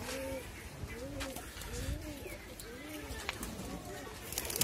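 Pigeons coo repeatedly in soft, rolling phrases, several birds close by, with a steady background hiss and occasional faint clicks.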